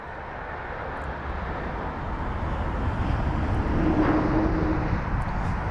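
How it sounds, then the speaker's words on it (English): A Swiss Airbus A220-300 from Geneva, flight LX354, landing at London Heathrow: a steady, broad jet roar with wind-like rush that swells slightly toward the end, heard from close by without any talk. "We've got the Swiss A220 now."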